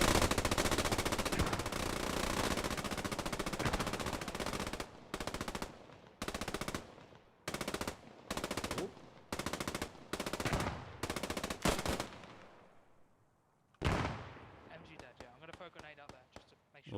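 A machine gun lays down suppressive fire in the World War II shooter Post Scriptum, first as one long sustained burst, then as several short, evenly spaced bursts, and finally as one more burst after a brief lull.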